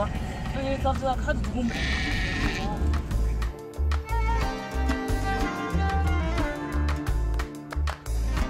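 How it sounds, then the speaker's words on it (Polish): Goats bleat repeatedly as they are loaded onto the roof of a train crossing the Sahara, their calls mixing with loud rumbling, clanking and people talking nearby. "Patrzcie, jak pakują kolejne kozy. I na dach jadą z nami."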